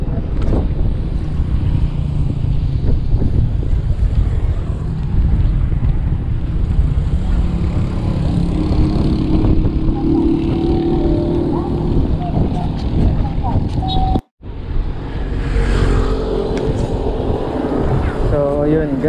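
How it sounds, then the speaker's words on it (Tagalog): Strong wind buffeting cyclists on a beach ride at Sabang Beach, Baler, Aurora: loud continuous roaring gusts against the microphone for the whole stretch, with a brief dropout near the end and faint voices underneath. "sobrang lakas ng hangin."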